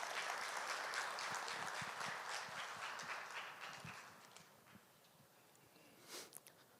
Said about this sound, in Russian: Под ваши бурные аплодисменты.